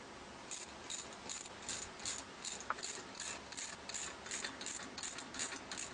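Bolts on T & K wall brackets are tightened, giving a steady run of quick, faint ratcheting clicks at an even rhythm. The clicks sound close against a quiet background and no one speaks.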